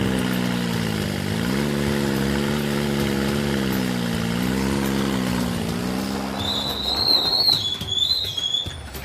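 Tractor engine running steadily and close while sowing mung beans in a field, a continuous droning hum that rises and falls slightly, followed near the end by a high whistling tone.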